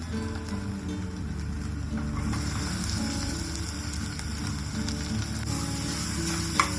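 Grated garlic, leftover green paste and onion fry in a pan for a prawn rice dish, giving a steady, loud, close sizzle that holds level throughout, with one brief clink near the end and no talking.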